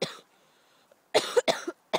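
A sick person coughs close to the mic, one harsh cough followed after a pause by a quick run of three rough, hacking coughs, with no talking.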